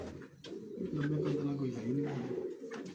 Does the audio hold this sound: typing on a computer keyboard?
no